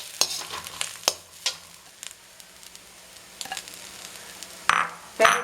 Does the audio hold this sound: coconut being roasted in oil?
yes